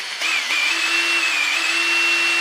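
A Fiolent DShA 2020-B cordless drill runs at its second speed, a loud, close, steady motor whine that starts abruptly and holds an even pitch with no talking.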